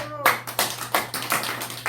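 A church congregation applauds in praise during a service, a few loud, uneven bursts of clapping following a brief spoken phrase.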